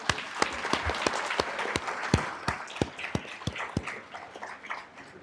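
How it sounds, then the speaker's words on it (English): An early-morning crowd at a climate summit claps, scattered sharp hand claps over a dense patter that thins out toward the end. "give yourselves a round of applause for just showing up so early"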